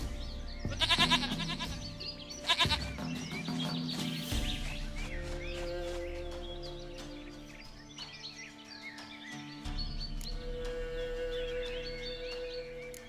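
A goat bleats in The Witcher 3 game, two short nasal cries near the start over steady ambient game music and background sounds that continue throughout.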